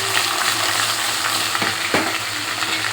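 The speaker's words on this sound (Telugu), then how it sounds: "బెండకాయ ముక్కలు వేసుకున్నాను. ఇందులో కొద్దిగా పసుపు వేసుకుంటాను." Okra pieces dusted with turmeric fry in a pan with a steady close sizzle, and two brief stirring scrapes come near the end. No one speaks.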